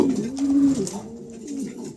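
Close, clear pigeon cooing: a low, soft throaty call repeated twice in quick succession.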